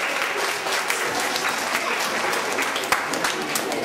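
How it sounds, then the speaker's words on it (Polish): An audience at a swimming club's Christmas Eve gathering applauds a young swimmer, the clapping dense, steady and sustained from start to finish, with no pauses. "Brawa."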